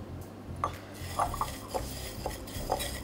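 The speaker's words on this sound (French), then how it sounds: "Et je mélange pour que le vert se répartisse bien sur toute la noix de coco." A utensil stirs green-coloured water through shredded coconut in a bowl, giving soft scraping with several distinct clinks of metal against the dish at an uneven pace, close by and fairly quiet, no voices.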